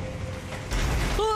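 A lever mechanism being pulled in the video game Elden Ring gives a brief mechanical clunk and creak, followed by a short rising tonal sound, all over a steady game background.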